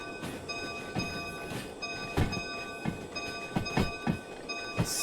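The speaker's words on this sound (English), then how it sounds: "Dude, what is with that horn?" A train horn holds a steady tone through the whole stretch, over rail rumble broken by sharp clanks and knocks at irregular intervals.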